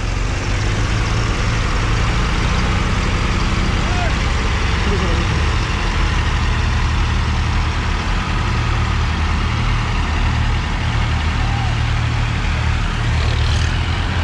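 Tractors, including Mahindra, New Holland, Kubota and Powertrac, run their engines together in a steady, loud low rumble with no break. Voices can be heard faintly beneath the engine noise.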